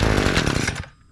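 A Wild Badger budget gas brush trimmer, a cheap small two-stroke unit, roars loudly at close range with a rapid buzzing engine note that cuts off abruptly near the end.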